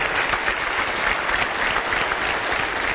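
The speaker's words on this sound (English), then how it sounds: "I think we should give Rosa one more applause." An audience at a local town government meeting gives a burst of dense, steady clapping that stays at an even level throughout and is fairly close, with no voices standing out above it.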